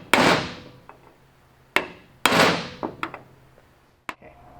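A hammer strikes a 7/16 inch punch to peen over a cable end on a More Power Puller, about six sharp metallic blows spaced unevenly, close and loud, with no talking.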